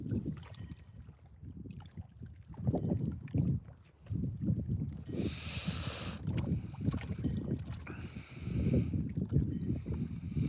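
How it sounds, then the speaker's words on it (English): Wind gusts across an Oregon lake in irregular surges, buffeting the microphone with low rumbling bursts and rising to loud rushes before easing, with no voices. "It's windy here"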